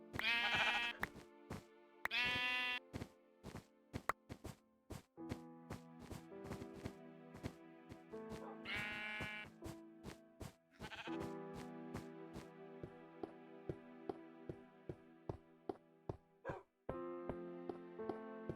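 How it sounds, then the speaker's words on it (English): Sheep in the Minecraft video game give repeated bleats, several bright nasal calls spread over a stretch of steady background music with rhythmic ticks, fairly faint overall. "I was about to murder this sheep?"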